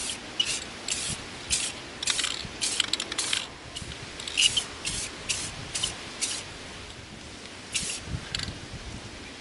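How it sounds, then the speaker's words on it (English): Aluminum spray paint from an aerosol can coats an EVA foam Boomerang Phaser prop outdoors in a series of short hissing bursts, each a second or less, close and fairly loud, with pauses between them. "We're going to begin spraying our Boomerang Phaser with our aluminum spray paint."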